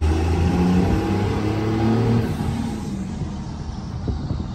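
A bone-stock 24-valve truck engine with a five-speed and only an aftermarket exhaust revs loudly and close, a deep steady rumble that eases back after a couple of seconds.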